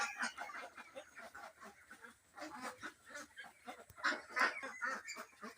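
Ducks, including black ducks, on a duck farm give repeated honking quacks and clucky calls in overlapping bursts, fairly faint and close-to-medium distance, with no speech.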